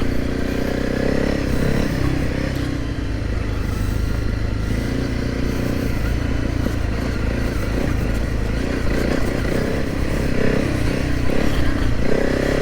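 A Honda CRF300L motorcycle rides a rocky, bumpy trail, its engine drone loud and close throughout, with clattering and scraping jolts over rocks and bumps and no voices.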